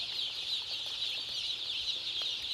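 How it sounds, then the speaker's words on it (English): Dense, continuous clucking and chirping from a flock of over 20,000 chickens inside a poultry house, steady and busy, filling the enclosed space. "you can see that there are lots and lots of chickens all the way down through the house."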